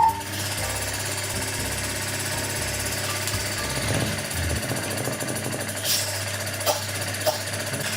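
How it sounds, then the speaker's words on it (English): Audi A8 ATE air suspension compressor (part 4e0616005g) running on a 12-volt bench supply, a steady loud mechanical buzzing hum with a rapid rattling pulse throughout, close up, with a few brief clicks near the end. "So the compressor works very fine"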